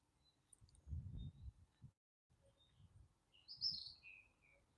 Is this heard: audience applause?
no